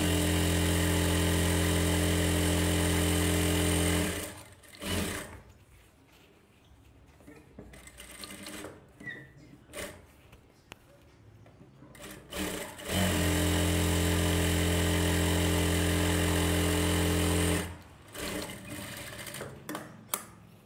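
Electric sewing machine stitching quarter-inch seams for rope-style tailoring, running in two long loud bursts with a steady droning hum, separated by a quieter stretch of handling and fabric rustle.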